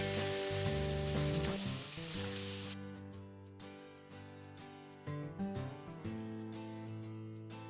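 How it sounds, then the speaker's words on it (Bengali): Chicken pieces coated in red chili powder, salt and food colouring fry lightly in a pan, giving a steady close sizzle that grows denser and crackly partway through, with background music tones underneath and no talking. "চিকেনগুলোকে আমি হালকা করে ভেজে নেব।"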